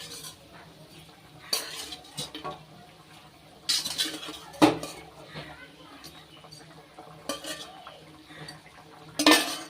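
A pot of hilsa fish curry with potatoes and eggplant is handled as fish pieces are added and a lid is set on. Sharp metallic clinks and clatters come in a few separate bursts, close by, with a voice talking between them.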